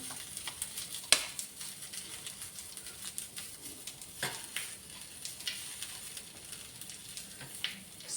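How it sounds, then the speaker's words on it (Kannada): Onion, curry leaves and raw prawns fry in a pan for a prawn sukka, a faint steady sizzle with soft scraping stirs and a few sharp clinks of the spoon against the pan. "ಈಗ ಈರುಳ್ಳಿ ಕರಿಬೇವು ಸೊಪ್ಪು ಫ್ರೈ ಆಗಿದೆ ಈಚೆ ಹಾಕೋಣ ಹಾಕಿ ಆಯಿತು ಈಗ ಚೆನ್ನಾಗಿ ಮಿಕ್ಸ್ ಮಾಡಬೇಕು ನೋಡಿ"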